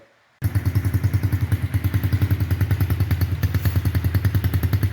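A Yamaha TTR-50 dirt bike's small single-cylinder engine, freshly rebuilt, starts up and idles with a steady, rapid thumping putter close by, loud and alone.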